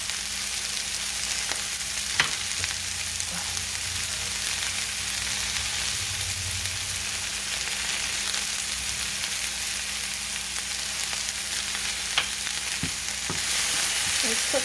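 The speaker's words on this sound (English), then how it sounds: "We're going to put some olive oil in here right now and start sauteing these down" Vegetables sauté in olive oil in a pan over medium heat, a continuous close sizzle with occasional stirring clicks and scrapes, no talking.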